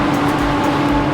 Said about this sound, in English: the fan needs to run for a few minutes